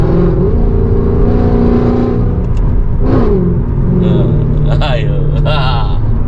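A Mercedes C63 AMG with its 6.3-litre V8 revs up through an open exhaust valve in a deep, throaty rumble that swells and falls, while people talk inside the car over it.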